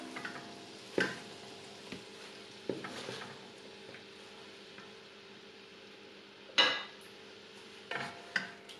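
Soft, faint sizzling of spinach in butter in a pan, broken by a few louder scrapes and clinks of a utensil stirring, with no talking.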